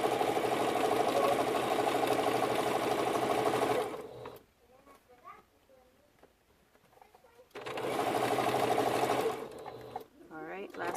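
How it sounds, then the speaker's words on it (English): Sewing machine stitching a large quilted mug rug, running loud and steady for about four seconds, pausing for a stretch of quiet shuffling, then running again in another steady burst before stopping. "Alright, let's go and sew this bad boy."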